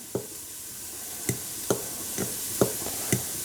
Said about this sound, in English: what you do again with the fork, just kind of mix that in.